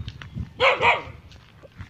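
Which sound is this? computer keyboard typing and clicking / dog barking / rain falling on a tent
dog barking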